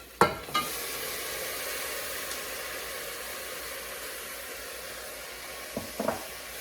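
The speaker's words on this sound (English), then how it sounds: "Now I'm gonna throw in the frozen peas and edamame." Frozen peas and edamame sizzle in a pan with sautéed onion, garlic and thyme, giving a steady, soft hiss of frying throughout, with a sharp clatter as they go in at the start and a couple of brief stirring knocks near the end.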